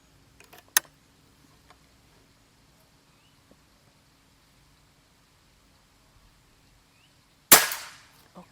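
A Gorila X2 PCP air rifle with a power plenum fires once, a sharp close crack with a short noisy tail, after a few faint handling clicks in a quiet setting.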